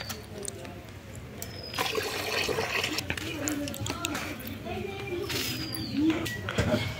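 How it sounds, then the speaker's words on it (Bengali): Rice being washed in a pot of water by hand in a home kitchen, giving soft sloshing and trickling splashes beneath someone talking over it. "এই যে চাল ধুইতেছে মা, চাল ধুয়ে তারপরে এই জলে দিয়ে দেবো"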